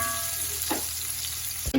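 Diced onion fries in hot oil for a vegetable stew, a steady close sizzle with a brief stir or clatter partway through and a louder knock at the end, no talking.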